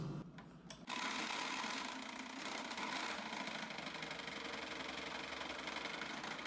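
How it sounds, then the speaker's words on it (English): A food processor grates cheese for homemade pesto, its motor starting abruptly after a brief quiet moment and then whirring loud and steady with a rattling, chattering texture throughout. "by using the food processor it'll be a lot faster than it otherwise was"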